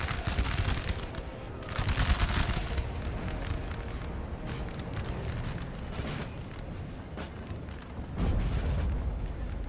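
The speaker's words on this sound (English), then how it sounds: "I think the artillery's trying to break it." Artillery in Napoleon: Total War booms in rolling, overlapping volleys at a distance, a dense rumbling barrage with heavier swells near the start and end.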